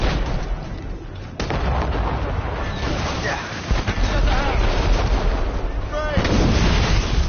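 Ship cannons boom in the naval combat of the video game Assassin's Creed Rogue Remastered, heavy blasts over wind and sea noise on a sailing ship, with crew voices shouting orders in between.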